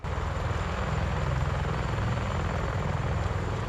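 A CH-53E Super Stallion heavy helicopter flies nearby, its rotor beating in a steady, rapid thump under a constant engine roar, loud and unbroken with no voices.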